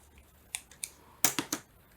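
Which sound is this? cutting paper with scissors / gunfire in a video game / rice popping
cutting paper with scissors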